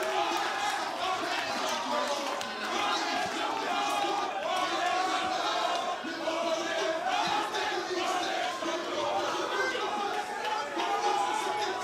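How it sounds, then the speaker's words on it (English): Dense crowd noise fills an esports stadium at the eLigue 1 McDonald's Grand Final, a steady roar of chatter and shouting that holds loud and unbroken throughout, with voices blended into the mass. "you can hear it, the crowd"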